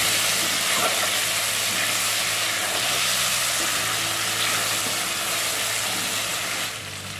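Garlic and tomatoes fry in a pan with turmeric, a steady close sizzle with faint stirring that holds from start to finish, easing slightly at the very end.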